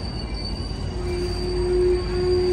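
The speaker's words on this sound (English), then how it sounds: "This is Sam and them train to go back to Martinez." An Amtrak San Joaquin passenger train departs Fresno station, rumbling steadily with a sustained metallic wheel squeal ringing over the low rolling noise.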